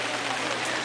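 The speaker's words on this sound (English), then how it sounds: "In the rain." Rain falls steadily at an outdoor Saturday market on Salt Spring Island, a dense, even hiss of drops that stays loud and constant throughout.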